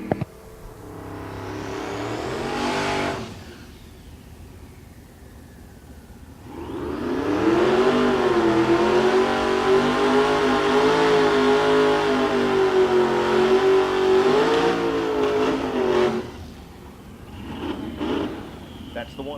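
A gasser drag racing car called Ole Yeller roars down the left lane of the strip at a Tulsa raceway during race week, a loud sustained engine note climbing in pitch, with a shorter earlier run and crowd-level announcer talk around it.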